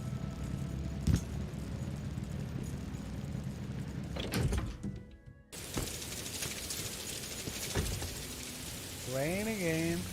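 Steady rain hisses in the Morrowind game world under ambient game sounds, broken by a few thuds and a short gap, with a rising tonal cue at the end.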